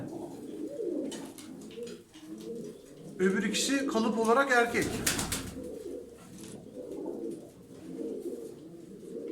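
Pigeons coo softly under a man's speech. The speech is loudest in the middle, where a brief burst of bird calls also rises, and low cooing runs through the rest.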